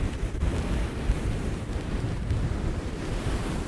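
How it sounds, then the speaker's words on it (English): Strong gusting wind buffets the microphone alongside crashing surf and sea spray on the Blackpool seafront during Storm Ciara, a loud, continuous roar with no voices. "it's just wind and sea spray and that kind of thing"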